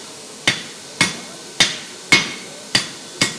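Six sharp, ringing hammer blows on hot metal at a forge while forging a spear and arrowhead, evenly spaced about half a second apart, close and loud with quiet gaps between.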